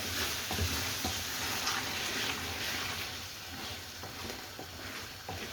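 Lamb and spinach curry sizzles in a pan as it is stirred, giving a soft continuous hiss with occasional scraping and clattering, close but quiet.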